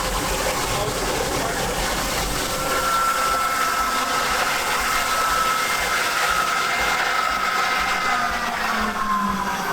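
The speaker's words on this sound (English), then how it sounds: "Most of the noise right now is all coming from the hand lines." Water rushing through the hand lines of a fire truck pump, a loud steady broadband roar with a faint whine rising partway through and no talk.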